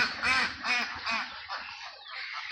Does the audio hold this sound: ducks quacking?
yes